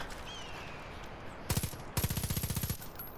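Gunfire in Far Cry 5 cuts through quiet ambience, with a short burst of rapid shots followed by a longer automatic volley of about a dozen evenly spaced cracks at moderate loudness.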